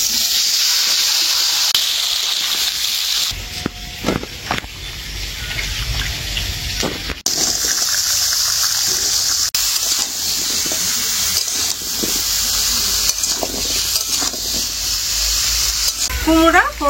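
Pumpkin pieces frying in oil with mustard seed, fennel and cumin tempering, a loud steady sizzle and hiss broken by scraping stirring strokes, with a brief pause midway before the frying resumes.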